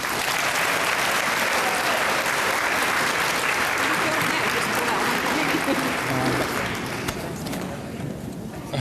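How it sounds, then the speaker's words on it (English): A crowd at a Relay survivor dinner claps together in a dense, continuous burst of applause that fills the room. It stays loud for several seconds, then tapers slightly at the end. "let's end it with everybody clapping once."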